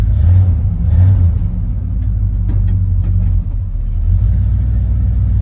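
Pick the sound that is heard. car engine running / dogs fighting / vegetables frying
car engine running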